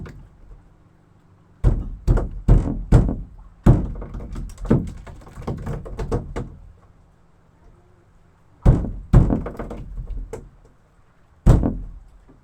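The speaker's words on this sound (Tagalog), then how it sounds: "pupukpukin ko ang ulo nito para mamatay, para makuha ko siya" A spiny fish has its head pounded to kill it, producing dull heavy thuds in quick clusters of three or four, then a pause, a couple more blows and a final single thump, close and loud.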